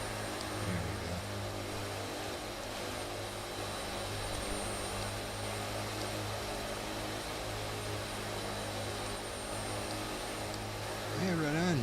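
Hercules transport plane's engines in a flight simulator game, a steady broadband drone with a constant low hum running throughout at even loudness, swelling slightly at the end where a voice briefly talks over it.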